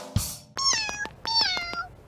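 Kittens in the Avatar World video game meow in two bright, rapid bursts of chirpy cries, close and clear, after a brief soft thump, with no talking.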